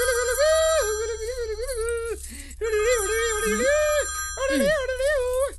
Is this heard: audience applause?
no